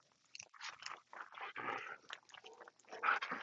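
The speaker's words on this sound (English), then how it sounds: "There he was actually actively trying to tear up the bird" A retriever dog biting and tearing at a retrieve bird, close wet chewing, crunching and ripping sounds in irregular bursts, with faint growly breaths, no talk.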